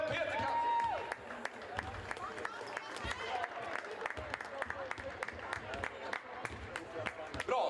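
A basketball club crowd applauds and cheers for a former basketball player, with sharp individual claps standing out from a steady, moderately distant round of clapping, and voices mixed in.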